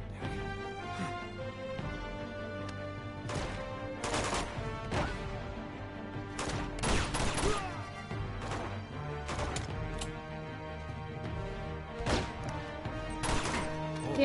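Gunfire rings out in Uncharted 2: Among Thieves, irregular loud shots and short bursts with sharp impact cracks scattered over a steady game background, some clustered close together, others spaced seconds apart.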